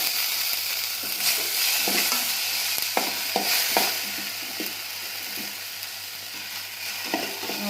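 Tomatoes frying in a pan, with a constant close sizzle and intermittent scraping taps of a spoon stirring them, fairly loud and without voices.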